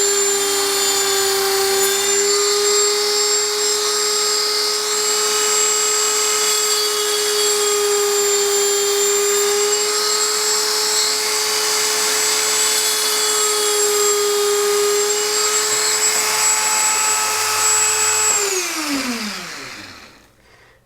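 A Dremel rotary tool cuts out the center of a wheel with a loud, steady high-pitched whine that holds for about eighteen seconds, then spins down and fades to silence at the end.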